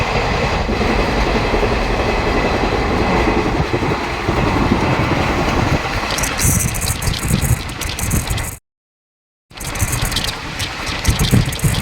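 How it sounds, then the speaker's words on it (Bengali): Haldibari Intercity Express racing at high speed through Malda district, heard from inside a second-class seating coach as a loud continuous rumble with rattling wheel clatter, cut by a short silent gap near the end. "ট্রেন উদুম গতিতে ছুটছে এখন।"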